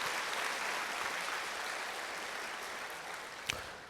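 Members of a jazz concert audience give a sustained round of applause in a hall, an even wash of clapping at moderate distance with a single sharper clap near the end.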